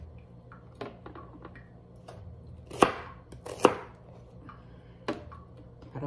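A knife chops an onion finely for meatballs, scattered sharp blade strikes on a board, a few louder chops standing out among softer cuts, close and quiet with no talk.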